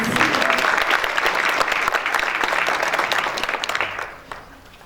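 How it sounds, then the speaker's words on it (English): An audience at a launch event for an anti-racism essay competition publication gives a hearty round of applause for a young winner, many hands clapping loudly and continuously before the sound tapers off and fades near the end. "I think that deserves just an extra round of applause"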